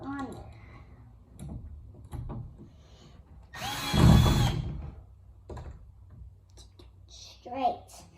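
A power drill whirs in a short, loud burst of about a second while replacing closet door handles, amid quiet talking and small clicks and knocks nearby.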